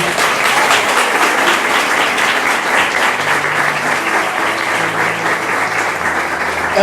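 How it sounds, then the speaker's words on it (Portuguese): A church congregation applauds during a pastor's sermon, a loud, continuous sheet of clapping that holds steady from start to finish with no break, with a faint voice underneath. "vamos aplaudir a Deus por essa família"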